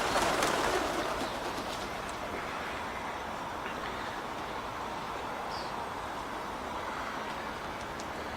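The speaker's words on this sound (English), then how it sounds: "There's loads of pigeons there." Pigeons at an outdoor feeding spot coo softly and repeatedly over a constant low wash of background noise, with no voices heard.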